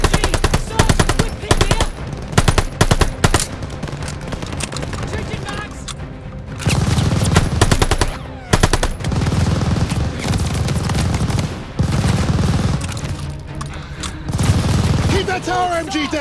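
Sustained machine gun fire from a tower MG emplacement in Call of Duty, loud rattling bursts with gaps, overlapped by shouting voices and heavy booms throughout.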